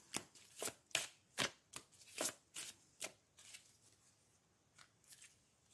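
A deck of playing cards as cards are drawn one at a time, giving a quick series of about a dozen crisp, close snaps and slides that thin out toward the end, with no talking.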